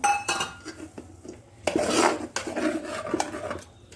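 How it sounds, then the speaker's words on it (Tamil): A utensil clinks and scrapes against a pan as milk goes into chopped pumpkin and gets mixed in, for a sweet pumpkin payasam. The scrapes and taps are irregular and close, with no one talking. "பாலை ஊற்றி மிக்ஸ் பண்ணிட்டு"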